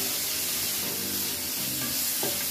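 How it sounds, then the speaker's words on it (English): Garlic frying in a hot skillet while being stirred for shrimp fried rice, a constant close sizzle with scraping stir strokes near the end and no talking. "just make sure you keep stirring it around so that garlic does not burn on you"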